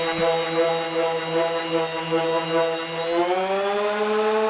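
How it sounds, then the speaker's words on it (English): An electric sander sands a car body, running continuously with a steady, buzzing whine whose pitch drifts slightly upward, close by and loud, with no voices. "putting in work with the sander"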